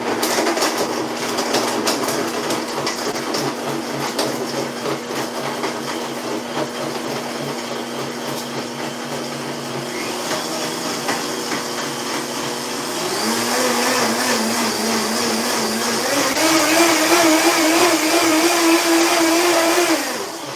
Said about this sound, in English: So I'm going to blend this.